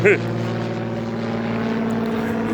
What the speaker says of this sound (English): there's airplanes everywhere because I'm right next to an airport